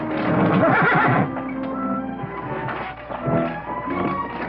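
A horse whinnies loudly up close, followed by snorting and the clip-clop of hooves moving about.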